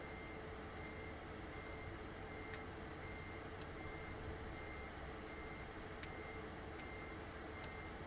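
Steady reversing alarm of a semi-truck backing a trailer in American Truck Simulator, with faint repeated beeps over a constant loud engine drone throughout.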